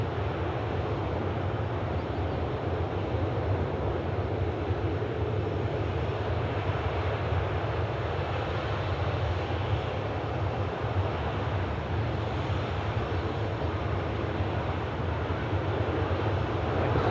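A Jet2 airliner at Newcastle Airport gives off a steady, loud engine roar. The broadband rumble holds constant for over fifteen seconds, with no talking.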